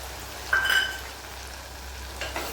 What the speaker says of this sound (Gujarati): ડુંગળીને લાલ ગોલ્ડન બ્રાઉન થઈ જાય ત્યાં સુધી એને હલવા દઈશું